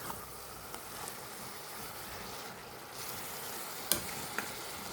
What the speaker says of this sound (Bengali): এখন আমি দিয়ে দিচ্ছি শাক